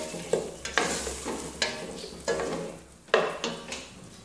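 Chicken frying in a pot as red chilli, turmeric and salt are stirred in: a soft sizzle under repeated scraping spoon strokes against the pan, about eight uneven scrapes in a few seconds.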